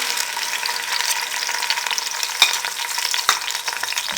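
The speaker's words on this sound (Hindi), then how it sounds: "प्याज़ों को मीडियम फ्लेम पे 3 से 4 मिनट फ्राई करेंगे" Onion paste frying over a medium flame in a pan with whole spices for green pulao, a dense, even sizzle close by with a couple of sharp spatula clinks and no voices.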